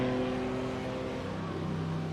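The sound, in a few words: Porsche boxer engine racing down the pit straight, racing game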